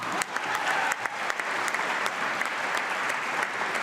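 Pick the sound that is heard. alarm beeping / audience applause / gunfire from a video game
audience applause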